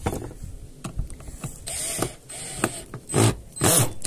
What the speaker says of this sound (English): I have to screw this screw in